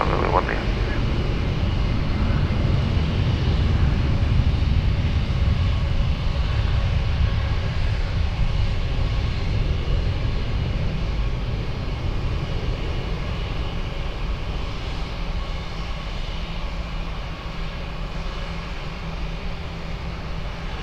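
An airliner takes off from runway 20 at Lisbon Airport, its loud, continuous jet engine roar slowly fading over about twenty seconds. Radio chatter is faintly audible beneath the noise.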